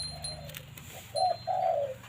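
A spotted dove gives a few soft, deep, hollow coos close by, with a short pause between phrases, over quiet outdoor background.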